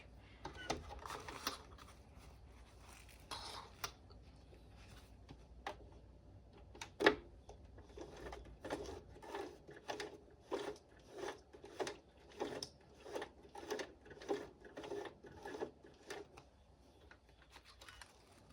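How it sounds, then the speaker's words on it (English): A sewing machine is hand-cranked to stitch a sling bag, a quiet run of rhythmic mechanical clacks roughly twice a second, after some earlier scattered handling knocks and no talking. "position the needle here, and then I just hand crank"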